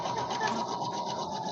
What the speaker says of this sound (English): Can you hear my sewing machine, Kathy?